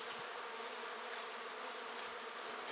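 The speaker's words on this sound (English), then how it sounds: "Now I'm first starting to see bees" Honeybees buzz around a hive during spring cleaning, a dense continuous drone from many insects, close and even without pause.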